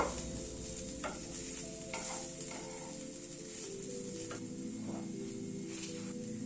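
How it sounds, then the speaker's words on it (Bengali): Poppy seeds fry lightly in a pan with bitter gourd, potato and onion, giving a faint, even sizzle and a few soft stirring scrapes over a low background hum. "পোস্তটাকেও একটুখানি হালকা করে ফ্রাই করে নেব।"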